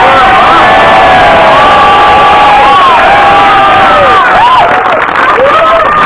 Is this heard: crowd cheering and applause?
yes